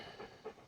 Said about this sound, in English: You can hear Uke panting in the background.